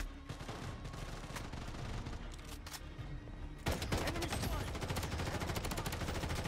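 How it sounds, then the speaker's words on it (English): Gunfire in a free-to-play Call of Duty-style shooter video game: rapid automatic bursts rattle on and off, becoming denser and louder in the second half, with a voice talking faintly underneath. "Oh, I'm getting shot at."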